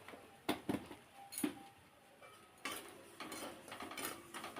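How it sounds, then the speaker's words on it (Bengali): Dal frying in a pan and stirred with a spatula, faint clinks and scrapes of the spatula against the pan, first a few separate taps, then steadier scraping over a soft sizzle. "একটু ভেজে নিতে হবে, কাঁচা গন্ধটা চলে গেলে লাগবে, অনবরত নাড়তে হবে, নাহলে তলায় ধরে যাবে"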